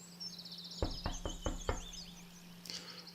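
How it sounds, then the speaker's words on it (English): Five sharp knocks on the infirmary door in the Everlasting Summer video game, a quick uneven series rapped close up over a steady background hum and faint birdsong, with no talking. "I gathered all my strength and knocked on the infirmary door."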